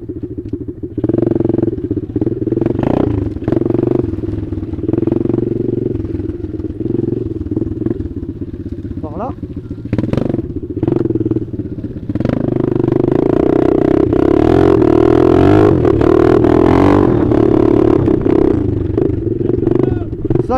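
A dirt bike engine revs and drones steadily close by on a track, rising and falling with throttle changes, with occasional clatter and brief voices over the engine.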